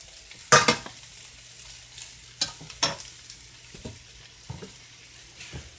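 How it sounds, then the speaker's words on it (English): Boiled yam stir-fried with peppers and garlic powder in a pan, steady low sizzle punctuated by several sharp scraping stirs and clinks, no talk. "Then I add in the peppers and I stir that for another 4 minutes."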